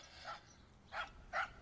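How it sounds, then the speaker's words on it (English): A dog barks three times, short separated barks spaced about half a second apart, moderately close against a quiet room background. "Shut that dog up."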